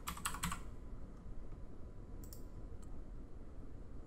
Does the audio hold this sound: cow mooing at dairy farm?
no